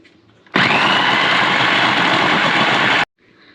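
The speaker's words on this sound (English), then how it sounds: "And pulse it till it becomes like cookie butter." A food processor pulsing Biscoff cookies, coconut oil and hot water, roaring loudly in one continuous burst of about two and a half seconds, starting and stopping abruptly, with quiet room sound before and after.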